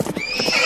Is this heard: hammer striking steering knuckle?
no